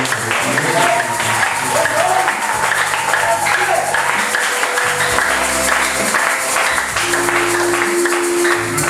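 Church congregation applauding for the Lord during a sermon service, sustained clapping throughout with music and voices mixed underneath.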